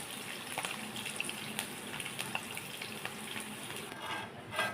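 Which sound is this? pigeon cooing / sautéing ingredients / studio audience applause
sautéing ingredients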